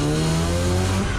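A Triumph GT6 rasps hard, its engine roaring loud and close while the tires scrabble and squeal during a brief burst of hard acceleration.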